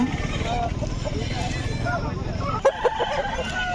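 A rooster crows at the Gudur chicken market, its call rising briefly near the end above constant crowd chatter and people talking close by.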